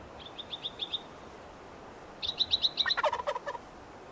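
A wild turkey in the hunting game Way of the Hunter 2 gobbles twice, a short rattling burst and then a longer louder one ending in lower clucks, clear over a quiet background.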